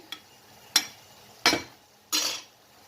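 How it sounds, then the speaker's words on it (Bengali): Yardlong beans stirred in a cooking pot give four separate scraping clinks of a utensil against the pot, spaced about half a second to a second apart, close and fairly quiet, with no talking. "নাড়াচাড়া করে দিলাম"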